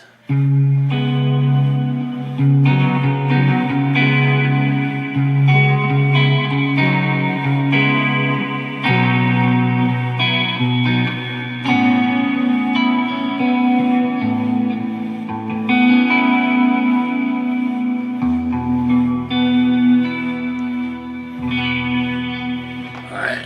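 Distorted, effect-laden electric guitar chords play continuously through a small Bluetooth speaker, with reverb and echo, sounding boxy and compressed, with no talking.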